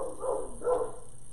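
Two muffled dog barks indoors, moderately loud, a short pause between them, heard while a wreath is being made.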